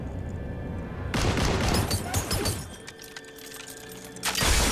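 Heavy gunfire in Mass Effect 3 strikes the player, a sudden loud burst of rapid impacts and crackling shots that tails off briefly before another sharp blast at the end, with no voices.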